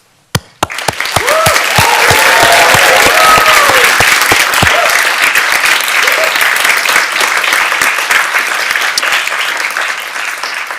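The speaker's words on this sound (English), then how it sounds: "I would invite you to join me in applause and maybe some boisterous cheering" Loud, sustained applause with boisterous cheering and whistles from a large audience at a Georgia Tech master's commencement ceremony, starting abruptly and filling the whole stretch before easing slightly toward the end.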